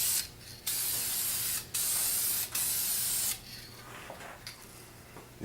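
Satin lacquer is sprayed onto a repaired table in close, loud hissing bursts, three long sprays separated by brief pauses, followed by quieter hiss and faint handling clicks.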